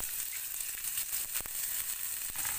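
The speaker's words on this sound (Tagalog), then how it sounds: "Ilagay na natin ang ating sibuyas." Onion drops into a pan of seven browned garlic cloves frying in oil for Filipino stewed string beans with shrimp, giving a close, steady sizzle with a few sharper crackles, no talking.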